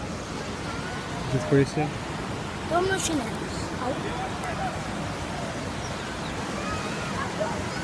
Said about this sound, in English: We are here by the waterfall.